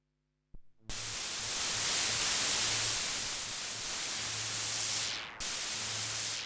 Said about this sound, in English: Let's check out the noise generator as well.